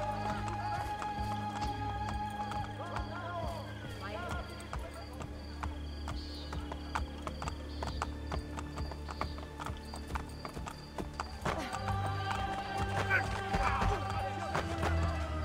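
Horse galloping in Assassin's Creed Brotherhood: steady clip-clop hoofbeats with an occasional whinny, running throughout over constant game music and ambience, with voices faintly present.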